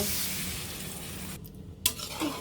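Masala and potatoes are stir-fried in a pan, giving a steady close sizzle that dips briefly, then a spatula clinks against the metal and the frying hiss returns.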